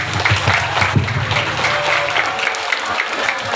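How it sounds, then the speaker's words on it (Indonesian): An audience at an Islamic youth talk breaks into brisk, sustained clapping, close and fairly loud, with a faint voice in the background. "Iya, tepuk tangan, betul sekali."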